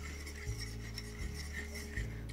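A fork stirs batter in a bowl, making soft, rhythmic scraping strokes about every three-quarters of a second, quiet and close, with no voices.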